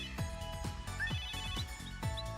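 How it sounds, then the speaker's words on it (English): A phone ringtone in Megadimension Neptunia VII plays a repeating pattern of about five sharp, bright chimes, evenly spaced, clear and moderately quiet, with no voices. "That's my end gear's ringtone"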